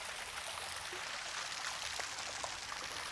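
A waterfall beside a stone walkway at a mansion gives off a steady, faint, even hiss of falling and splashing water, heard from a short distance with no voices.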